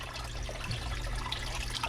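Water trickles steadily out of the pump of a 125-gallon koi tank, a soft continuous dribbling and splashing heard close up with no voices.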